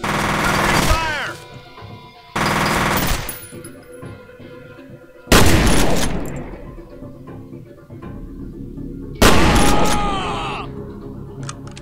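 Four loud bursts of automatic gunfire in the shooter F.E.A.R.: Perseus Mandate, each a dense rattling volley lasting a second or two with ringing echoes, separated by quieter gaps of rumble.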